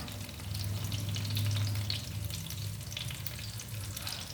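Stuffed brinjals fry steadily in a pan, giving a continuous close sizzle with a low steady hum beneath and no voices.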